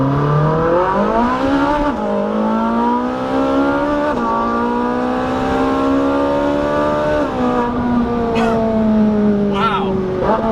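Supercar with a double-clutch transmission accelerating hard. The loud, close engine note climbs in pitch through quick, crisp upshifts, with a voice briefly audible over it.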